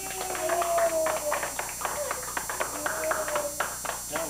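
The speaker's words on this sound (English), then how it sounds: "she's starting to clap too" Hands clap in a quick, steady rhythm close by while a voice carries on underneath.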